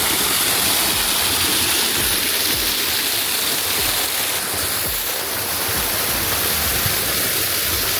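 Roselle waterfall in St. Thomas, Jamaica, pours with a steady, loud broadband rush of falling water that holds constant throughout, with no voices over it.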